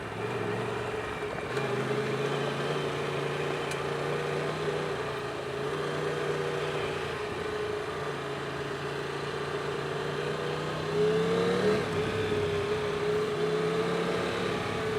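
A Triumph Tiger 1200 GT Pro motorcycle on Mitas Enduro Trail+ tires pulls forward on an off-road section, its engine humming with a steady drone that swells slightly near the end, close and continuous over wind noise.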